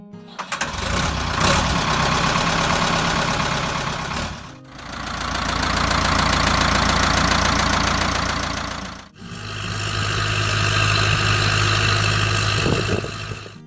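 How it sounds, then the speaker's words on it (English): Ford 5000 tractor with a stout four-cylinder diesel of nearly 70 horsepower, running loud and close in three sustained stretches split by short breaks, with a rough, knocking engine tone. "Under that blue hood sat a stout 4-cylinder diesel engine pushing close to 70 horsepower"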